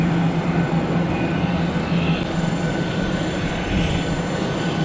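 A passenger airplane at an airport during boarding gives off a loud, steady engine drone that fills the whole stretch without a break.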